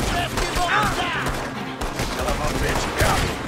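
Gunfire crackles through a shootout in Red Dead Redemption 2, dense repeated shots running continuously over the game's busy background noise.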